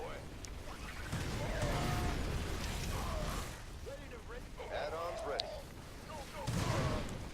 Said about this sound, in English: Siege tank is putting in some work from the back.